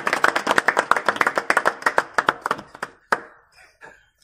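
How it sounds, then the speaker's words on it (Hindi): A small gathering welcomes an honored guest with applause: a handful of people clap in crisp, close claps that start fast and dense, thin out and trail off with a few last isolated claps. "एक बार तालियां बजाकर इनका स्वागत करें"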